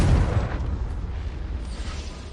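A single loud boom from the Confringo fire spell bursts in a wizarding video game. The heavy hit lands at the start, then a rumbling tail fades slowly with no voices.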